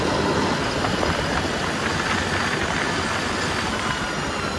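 Deutz-Fahr 4080E export-model tractor driving, its engine a continuous, even rumble heard close up from the cab with no talking.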